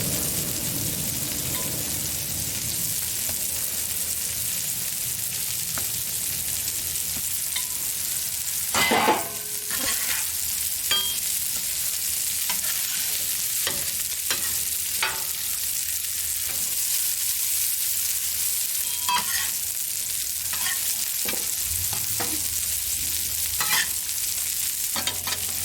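Buns toasting on a flat griddle for an In-N-Out style burger, a steady bright sizzle throughout with occasional spatula scrapes and taps, close and continuous.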